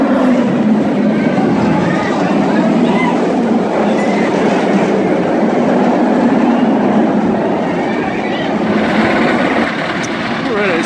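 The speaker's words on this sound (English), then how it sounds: "And train station up ahead." An amusement park train rolls toward its station at Six Flags Fiesta Texas, a loud, continuous rumble with rail clatter that stays close and steady throughout, with no talking over it.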